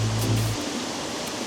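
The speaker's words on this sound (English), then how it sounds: "Let's get the water in the background while we sign off." Halicki Waterfall in Yorkshire, a continuous broadband rush of falling water heard from nearby, steady throughout with a brief low rumble at the start.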